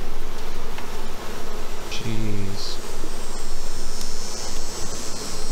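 Honey bees buzz steadily at an open hive during a fall harvest, a dense close swarm drone running throughout, with a brief exclamation from a person partway through.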